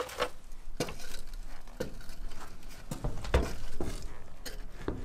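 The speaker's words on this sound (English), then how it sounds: "But unfortunately, it started to rain." Rain falls on the lean-to roof of a shipping container, giving steady close pattering broken by sharp irregular drips and taps, with no speech.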